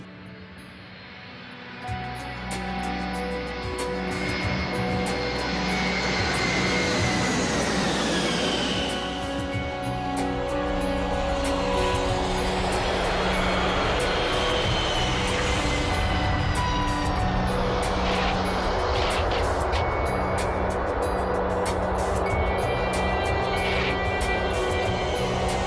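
KLM airliner touching down on runway 30 in a smooth landing: a loud, continuous engine and rolling roar heard from inside, with rising and falling whines of spooling engines and rumble throughout.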